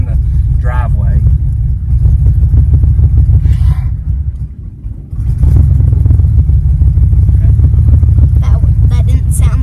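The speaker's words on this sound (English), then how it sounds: "So we're just driving in the driveway." An old Chevrolet Nova, parked for 24 years, runs with a loud, steady low rumble as it creeps along a driveway, the engine briefly sagging and nearly dying before picking back up.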